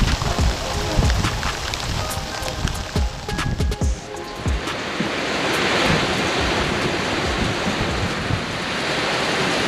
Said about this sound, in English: We're on a rain delay.